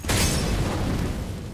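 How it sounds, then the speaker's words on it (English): A flashbang grenade detonates in a video game: a sudden loud booming burst that decays into a rumbling tail over a second or so, no voices over it. "I'm throwing a flashbang."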